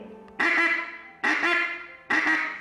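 Three loud, close nasal quacks come from a duck call imitating gray ducks on the water early in the morning, spaced evenly about a second apart, each fading quickly.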